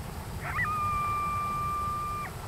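A single coyote gives one clear, sustained howl in a snowy setting. The howl holds a steady pitch for nearly two seconds over a quiet background hiss.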